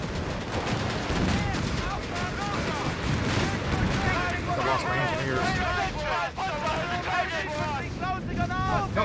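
Gunfire rattles through a desert battle in Company of Heroes 3, set in a North Africa campaign mission. Dense, continuous shots and explosions fill the scene at a steady loudness, with voices and unit chatter layered throughout.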